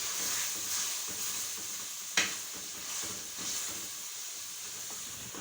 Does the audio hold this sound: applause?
no